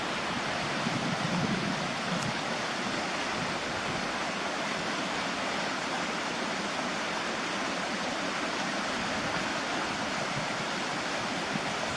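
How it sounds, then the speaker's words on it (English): A fresh river stream runs past a riverside camp, a steady hissing rush of flowing water, moderately loud and unbroken for twelve seconds, with no talking. "Fresh stream."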